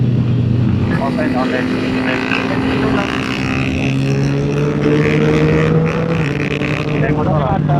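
A motorcycle passes on an uphill road, its engine droning loud and steady throughout, with the pitch climbing as it nears. People talk over the engine.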